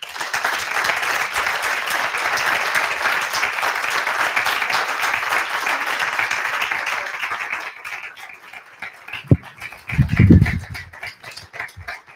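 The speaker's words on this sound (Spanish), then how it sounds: "también me va a dar un pequeño aplauso si es que me lo dais" An audience at a scientific session gives sustained applause after a talk, loud dense clapping that carries for about eight seconds, then thins out into scattered claps while a few low voices and handling thumps come in near the end.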